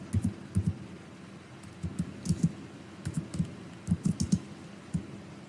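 Typing on a computer keyboard, heard as soft irregular clusters of key clicks from close by that stop and start in short bursts over quiet background, with no voice.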